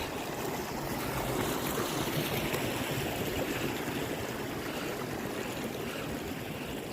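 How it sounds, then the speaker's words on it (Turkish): A small waterfall on Erciyes mountain, water tumbling through grass near the snow, gives a steady broadband rush that stays close and even throughout with no voices. "İkinci şelale."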